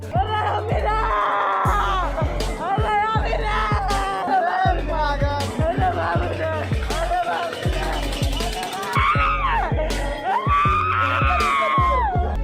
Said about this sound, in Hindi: वह इतना जोर जोर से चिल्लाने लगी कि पूछिए ही मत।